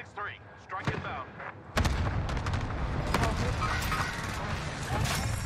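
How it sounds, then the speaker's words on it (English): Airstrike explosions in Call of Duty on Rebirth Island, with a rolling barrage of loud booms and rumbling blasts that starts suddenly and fills the rest of the clip. Gameplay sounds come before it. "Here comes the airstrike."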